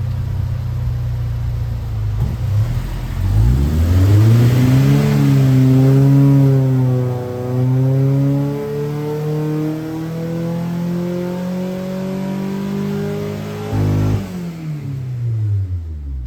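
A K24-swapped 8th-gen Honda Civic, formerly R18-powered, revs hard on a dyno during a tuning pull, with rising harmonics through the run. The engine climbs, holds near the top, and then drops off sharply toward the end, loud and close, with no talking.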